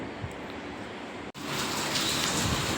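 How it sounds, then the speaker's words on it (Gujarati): Steady rain falls outdoors in Gujarat, a dense even hiss of drops with a momentary break partway through, then continuing slightly louder. "ફાઇનલ ગેસ વરસાદ ચાલુ થઈ ગયો છે"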